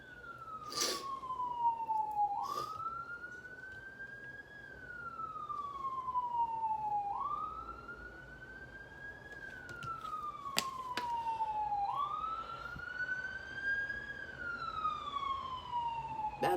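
A wailing emergency siren passes outside, rising and falling in long slow sweeps for the whole stretch, at moderate distance and fairly steady in loudness, with faint background noise and no talk.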